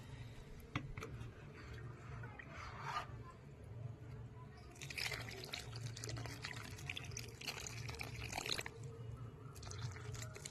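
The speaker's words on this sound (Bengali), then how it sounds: "এটার মধ্যে জল দেওয়া হচ্ছে এখন গাছটার মধ্যে" Water poured from above onto a plant in dry soil, a steady splashing trickle with bursts of louder pouring midway, over a low background hum.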